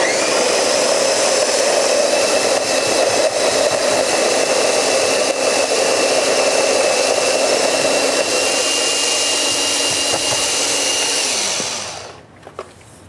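An electric coffee grinder grinds beans to a medium grind with a loud, steady whirring drone that runs for about eleven seconds, then winds down and stops, leaving a few light clicks.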